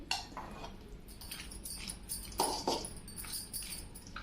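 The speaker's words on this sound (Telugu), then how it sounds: "మొత్తం పులిహోర అంతా కలుపుకుందామండి. బాగా కలగబెట్టుకున్నాం." Tamarind rice (pulihora) being stirred in a metal pot, with scattered clinks and scrapes of a spoon against the pot, a few louder knocks, moderately close and without speech.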